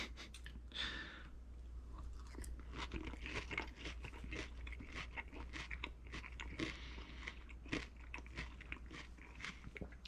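Close, crisp crunching and chewing of a crunchy wedge salad with fried shallots, with repeated bites and rapid munching in a quiet setting.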